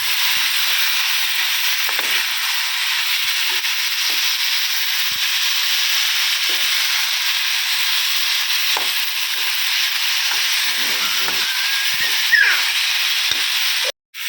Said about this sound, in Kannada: ಮೇಯ್ನು ಟೊಮೊಟೊ ಫ್ರೈ ಮಾಡ್ಕೊಳ್ಳೋದು